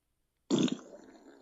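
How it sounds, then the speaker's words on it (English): A smart speaker plays a fart sound effect after a short silence, a sudden loud rasping burst that trails off into a softer fluttering tail. "Alexa, fart. That was a creamy one."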